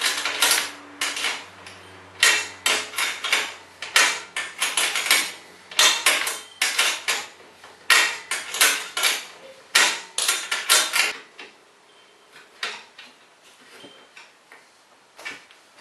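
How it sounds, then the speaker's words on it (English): Metal clicks and sharp taps come from tightening the bottom bolt on a garage door torsion tube assembly, a busy run of close, distinct ticks in bursts that slows and fades toward the end. "I am going to tighten this bottom bolt though, because that's where it needs to tighten."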